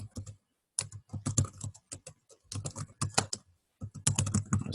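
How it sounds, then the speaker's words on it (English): Typing on a computer keyboard, close and crisp, in quick bursts of keystrokes separated by short pauses, with no talk. "I'll just type in a book."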